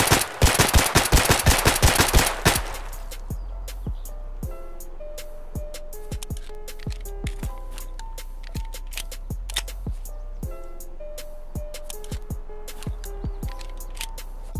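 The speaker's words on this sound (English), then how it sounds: "Alright, so here I am, just firing off my shots like a dumbass." Rapid automatic gunfire in the video game Escape from Tarkov rattles loudly for about two seconds, followed by scattered single clicks and metallic handling sounds over a low hum.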